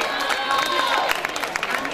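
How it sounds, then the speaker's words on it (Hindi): Crowd at a Republic Day prize ceremony in Shahganj, Jaunpur, cheering and clapping for the second-place school, St. Thomas Inter College; a steady dense roar of noise with scattered claps and voices throughout. "इनके लिए भी जोरदार तालियां बजाइए"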